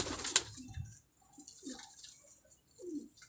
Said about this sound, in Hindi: ये दूसरा कबूतर हो गया